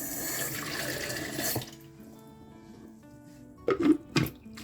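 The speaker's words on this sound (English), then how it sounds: "I'm going to put a little bit of water to clean the blender, or to clean the cup." Tap water gushes steadily into a blender cup for a moment, then stops, followed by a couple of clunks and swishes as the water is swirled around to rinse it.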